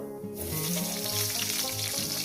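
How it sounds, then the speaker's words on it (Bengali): Potatoes frying in a pan with a little cumin powder, a steady close sizzle that jumps up after a quieter start and holds evenly, with background music running underneath. "আলুগুলো আমি চার পাঁচ মিনিট ধরে একটু ভেজে নেবো"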